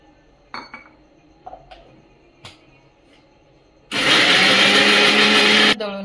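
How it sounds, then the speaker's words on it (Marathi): A kitchen mixer grinder whirs loudly for about two seconds as it grinds green chillies with water, after a few light clinks of utensils and lid handling. "आता मी हे पाणी टाकून दळून घेणार आहे."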